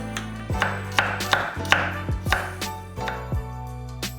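Three whole garlic cloves are sliced thin with a knife on a cutting board, a rhythmic series of about ten crisp, close taps in quick succession, each with a short woody knock.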